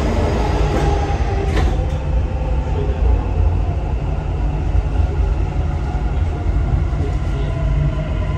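A Dubai Metro Red Line train rumbles steadily and loudly from inside the car as it pulls away, with faint wheel squeal and rail clatter under the continuous roar.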